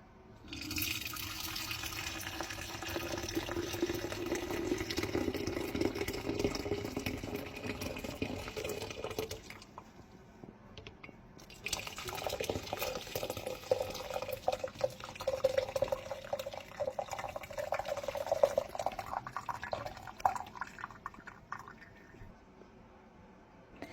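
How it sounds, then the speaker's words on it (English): Herbal traditional medicine tea poured through a strainer, a continuous splashing trickle that fills for several seconds, pauses briefly, then resumes with a thinner, dribbling stream, close and fairly quiet. "I am going to pour the tea through the strainer and have myself some good traditional medicine tea"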